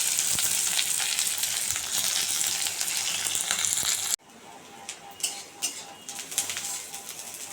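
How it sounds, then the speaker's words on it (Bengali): Sliced onions hit hot oil tempered with nigella seeds in a wok, giving a loud, dense sizzle for about four seconds before it cuts to a quieter, crackling fry with scattered pops. "পেঁয়াজটা একটু ভাজা ভাজা করে নেব।"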